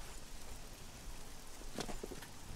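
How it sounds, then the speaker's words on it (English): Soft, steady rain in the video game Oblivion hisses faintly in the background, with a brief cluster of patters and light taps near the end. "Oh, it's raining now?"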